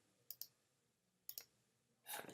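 Computer mouse clicks during video editing: two quick double clicks, close and crisp against a quiet background, then a brief louder rustle at the end.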